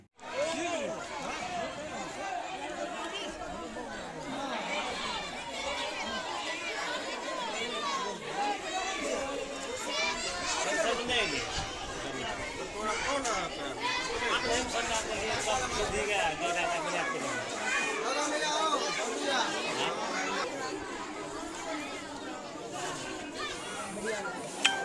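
Dense crowd chatter at a ward secretary selection meeting in a village panchayat, many overlapping voices forming a steady loud babble throughout.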